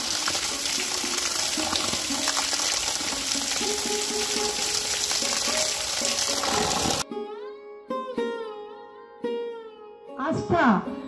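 Water running from a village tank while someone washes their feet, a steady, close gush and splash for the first seven seconds, then it stops and a voice speaks.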